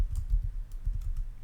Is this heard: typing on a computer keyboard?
yes